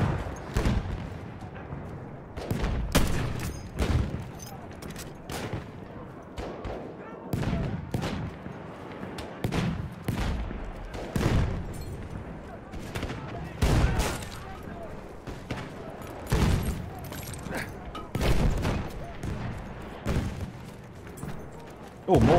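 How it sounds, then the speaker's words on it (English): Battlefield 1 combat with repeated loud gunshots and booming reports arriving in irregular bursts, bullets cracking past overhead, while a player talks over the fighting. "I don't like when any bullets fly over my head."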